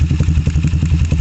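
A Honda CB motorcycle engine with a freshly tuned Mikuni TM36 carburetor idling up close, a low, slightly uneven putt-putt rhythm that stays soft and steady.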